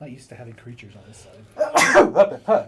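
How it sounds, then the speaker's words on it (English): A harsh human sneeze during a tabletop card game session, bursting out loudly near the end after a voice speaks, with a couple of short follow-on bursts. "Harsh sneeze."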